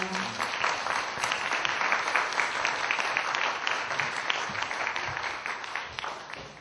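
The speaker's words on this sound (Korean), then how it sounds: "여러분 다시 한번 큰 박수 부탁드릴게요" A large audience at a Korean book concert claps in sustained, dense applause that holds steady for several seconds before tapering slightly at the end, with no talking over it.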